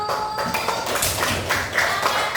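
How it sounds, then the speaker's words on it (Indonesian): Fifth-grade classroom applauding a student group during a lesson, a dense steady patter of many small hands clapping together for a couple of seconds, fairly close and unbroken. "Oke, tepuk tangan untuk kelompok 1."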